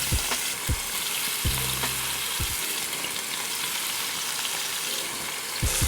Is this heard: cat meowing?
no